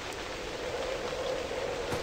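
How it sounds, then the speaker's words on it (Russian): Rain in the survival game Novus Inceptio falls as a steady, soft hiss of dense drops, even and continuous, with no voices. "То есть здесь дождь намного сильнее,"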